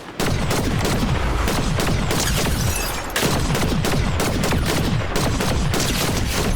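Dense, continuous Fortnite gunfire fills the whole stretch: rapid overlapping shots and bursts with a few heavier booms, loud and close, with a short dip near the middle before the volley resumes. No one speaks.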